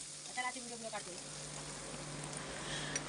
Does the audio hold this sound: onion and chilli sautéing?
yes